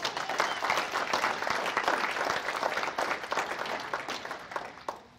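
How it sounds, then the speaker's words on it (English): A crowd at an Army Air Force reunion talk in Tucson claps in a dense, steady burst of applause that slowly thins out and fades toward the end. "With a round of applause, how many people here believe we should teach history better in schools?"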